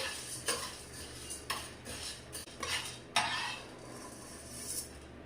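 A utensil scrapes and clinks against a hot pan as chana dal is stirred and dry-fried for sambar powder, with irregular sharp scraping strokes over a faint low hum and no talking.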